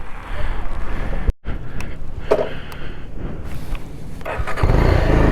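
A motorcycle engine idles and rumbles on Magnetic Hill near Leh, Ladakh, loud and close with gusty wind noise against the microphone, a brief dropout, then a steadier, stronger engine drone toward the end.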